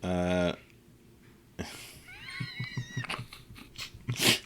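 A short burst of voice, then a cat's wavering meows and mouth noises up close, with soft chewing-like clicks in between.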